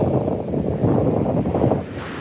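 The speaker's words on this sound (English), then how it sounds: "Choppy, energetic ocean today at sunset." Choppy, energetic ocean surf at sunset, recorded outdoors as a loud, steady wash of waves buffeted by wind noise on the microphone, with no voices.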